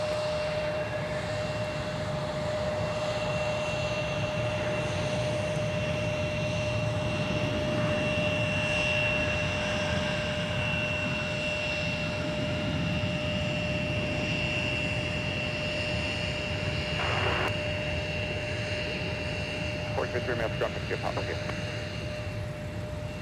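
A jet airliner roars steadily at MSP airport, a loud continuous engine rumble with a high whine throughout, and a few faint radio-like chirps near the end.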